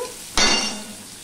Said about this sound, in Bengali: এবার পেঁয়াজটা একটুখানি নেড়ে নিয়েছি, দেখতেই পাচ্ছ